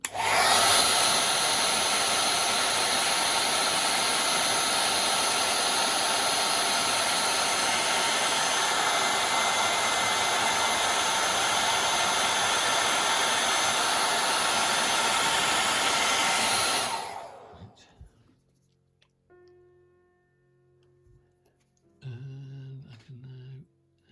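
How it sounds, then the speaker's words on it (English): A hair dryer blows loudly and steadily for about seventeen seconds, drying paint on a miniature figure, then cuts off, leaving faint clicks and a brief mechanical rattle. "I'll just give it a quick blast with the hairdryer."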